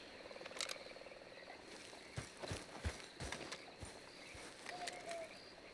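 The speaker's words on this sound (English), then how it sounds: "Alright, there's Bob the horse." Horse hooves clop on the ground in Red Dead Redemption 2, a faint irregular series of thuds and scuffs amid quiet outdoor ambience, with a few sharper knocks grouped in the middle.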